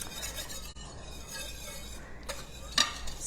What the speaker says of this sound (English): I am whisking it constantly because I don't want it to brown on the bottom like my vanilla did